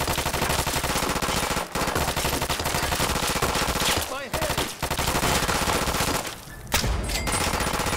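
Rapid automatic gunfire at a turret in the video game Fallout, loud sustained bursts with brief pauses between volleys and a muffled voice underneath.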